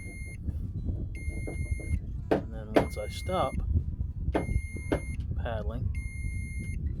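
A Harbor Freight Fishermans Habit portable fish finder beeps in short repeated bursts while out on the water, with someone talking over the beeps and paddling noises.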